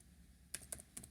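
Computer keyboard keys tapped while writing a C++ program, a few quiet, quick clicks in a short burst against a faint room hum.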